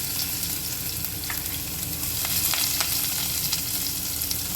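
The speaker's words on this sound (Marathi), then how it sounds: "त्यानंतर त्यात थोडंसं हिंग टाकून घेऊया कढीपत्त्याची पानं आणि आपण जी बारीक चिरलेली लसूण आहे ती टाकणार आहोत" Garlic, curry leaves and asafoetida sizzling in hot oil for a cabbage and chana dal dish, a steady close crackling fry with a few sharper pops.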